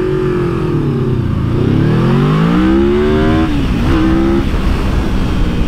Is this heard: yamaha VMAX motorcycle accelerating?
yes